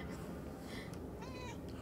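A cat meows in the video game Murdered: Soul Suspect, two short drawn-out calls sounding quietly over a soft, noisy background.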